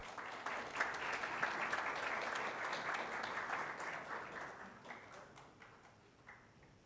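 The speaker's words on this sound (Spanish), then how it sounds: "Un aplauso para él, por favor." An audience at a conference event applauds, a dense, fairly distant wash of clapping that holds steady and then fades out over the last couple of seconds.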